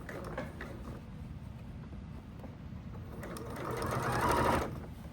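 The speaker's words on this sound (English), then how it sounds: "I can start to sew again" A sewing machine runs close by, stitching through a messenger bag with a steady mechanical whir and patter that speeds up and grows louder near the end before easing off.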